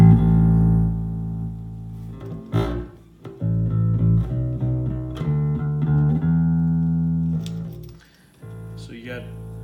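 An electric bass guitar played through Time Machine bass electronics sounds a run of plucked notes with low sustained tones, fairly close and moderately loud, ending in a brief quieter pause before a few last notes.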